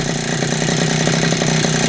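A used grass cutter engine idles steadily after its carburettor has been tuned, giving a close, even, buzzing putter with no revving.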